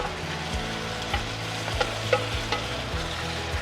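Chicken adobo being stirred in a frying pan, with steady sizzling and a few sharp scrapes and clinks of a utensil against the pan at irregular intervals, close and moderately loud, no talking.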